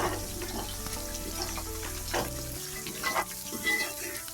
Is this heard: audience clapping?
no